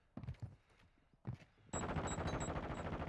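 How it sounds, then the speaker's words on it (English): Gunfire in the video game Call of Duty: Modern Warfare II, starting with a few separate sharp shots and then breaking into a loud, sustained automatic burst. "I'm taking fire!"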